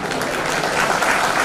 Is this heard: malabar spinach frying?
no